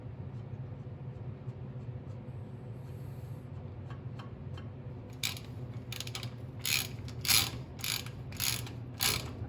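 Hand wrench ratcheting on a Ford 9 inch axle, quiet clicking strokes over a low background hum, becoming a series of louder, sharper ratchet bursts toward the end.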